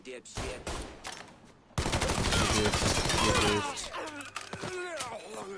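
Gunfire in Mafia 3: a few sharp shots open, then a dense volley of rapid automatic bursts follows, loud and close, easing into scattered shots with a voice breaking in near the end.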